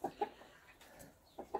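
A few soft, short clucks from a chicken come close by in quick pairs, quiet and alone.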